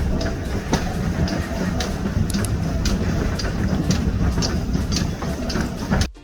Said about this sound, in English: Here's the train waiting to use the line patiently, from Buckfastleigh to Totnes.